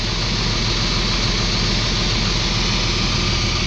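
A heavily built John Deere tractor engine running nearby, a steady, loud low rumble with a broad roar that stays constant throughout, with no talk.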